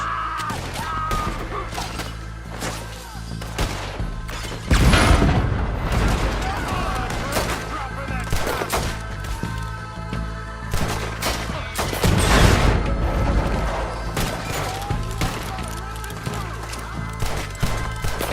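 A shootout in the video game Red Dead Redemption 2 brings repeated loud rifle and pistol shots in irregular volleys, with heavy booming blasts and shouting voices mixed among them.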